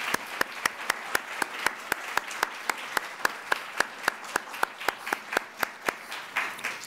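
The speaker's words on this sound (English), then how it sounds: "please join me in a round of applause to thank everybody for an effort that started last fall." Audience applause at a botanic garden bulb show opening lecture: a steady round of hand clapping from a room of listeners, with sharp, evenly spaced claps standing out over the dense wash for about seven seconds.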